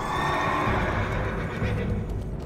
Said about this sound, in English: Summon our war horse.